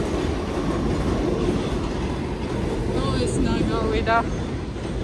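A metro train rumbles loudly and continuously overhead in Brooklyn with rattling wheels and a brief metallic squeal, while a person speaks a few words beneath it.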